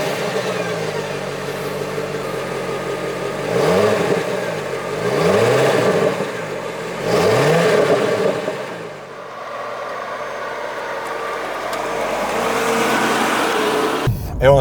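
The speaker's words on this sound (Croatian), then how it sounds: "Evo nas konačno za volanom pa da vidimo kako se Corvetta ponašaju u vožnji." Chevrolet Corvette C4 engine revving on the move in a few rising surges, each building then easing off, loud and close throughout.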